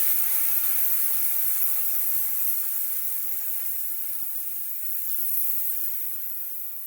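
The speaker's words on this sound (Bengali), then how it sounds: "এবার আমি জলটা দিয়ে দিচ্ছি।" Water poured into a pan of frying potatoes, giving a bright steady hiss and sizzle of steam that stays fairly loud and slowly tapers over several seconds, with no voices.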